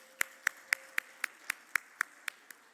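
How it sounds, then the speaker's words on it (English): Steady, evenly spaced hand claps, about ten sharp crisp slaps close by with little crowd wash behind them, at a USHCC Capitol Hill Day luncheon. "Let's give him a round of applause."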